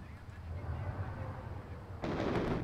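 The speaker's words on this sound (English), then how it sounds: "I just missed every bomb, Chokin." Distant bomb blasts rumble in the WARNO real-time strategy war game, a low sustained boom followed by a sharper, brighter burst near the end.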